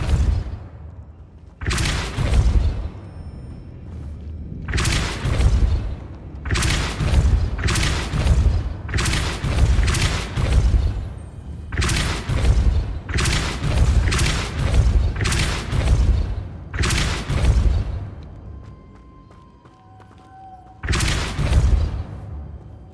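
Repeated Depulso force spells cast in the Hogwarts Legacy video game, about a dozen loud booming blasts in an irregular rapid series, each a sharp thudding burst with a short decay, then a pause before one last blast.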